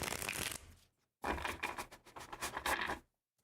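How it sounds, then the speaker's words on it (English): Tarot cards being shuffled by hand in two quick, soft riffling bursts with a short pause between, close and fairly quiet. "So again, I'm shuffling the cards again."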